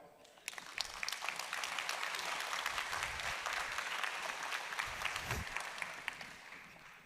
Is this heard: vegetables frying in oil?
no